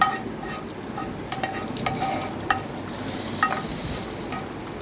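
Fried onion tempering being stirred into a goat head curry with chana dal, a steady sizzling hiss with occasional light utensil clinks against the pot, close and continuous, with no talking.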